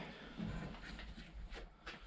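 A train passing with a rumbling roll and faint clickety-clack of the wagons, heard from a short distance and fairly quiet, with no talking.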